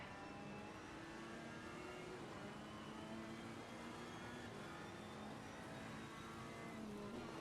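Race car engine in the sim racing game Assetto Corsa Competizione at Imola, a steady, moderately loud drone with gradual pitch shifts as the car accelerates and holds speed, without any talking.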